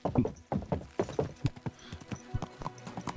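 Horse hooves clip-clop in Kingdom Come Deliverance 2 as several horses move together, giving a busy, uneven run of close hoof strikes over a low background.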